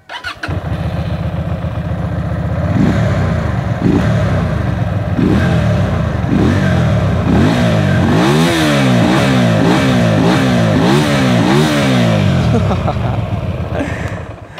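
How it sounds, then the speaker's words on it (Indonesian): A Keeway Benda V2525C motorcycle engine cranks over, catches and settles into a loud, close idle, followed by a string of sharp throttle blips and revs that rise and fall in steady succession. "Tapi tunggu sampai kalian dengar suara mesinnya."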